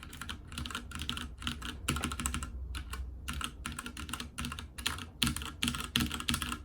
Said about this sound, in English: this keyboard I definitely recommend if you want to get into mechanical keyboards